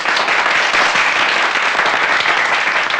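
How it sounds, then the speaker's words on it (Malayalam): An audience at a community voluntary-labour festival inauguration claps loudly and steadily, a dense close wash of applause filling the whole moment without pause. "എല്ലാവരും ഒന്ന് കൈയടിച്ച്."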